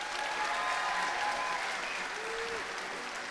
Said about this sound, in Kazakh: 5 рет көтергеніне күллі халық шапалақтайды.